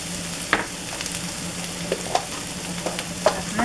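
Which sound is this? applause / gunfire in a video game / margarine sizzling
margarine sizzling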